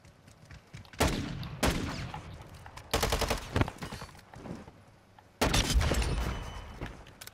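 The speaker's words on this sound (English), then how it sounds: "No, that was a deagle shot." Desert Eagle pistol shots in Call of Duty: Modern Warfare II crack out as several loud, sharp bursts spaced about a second or two apart with echoing tails.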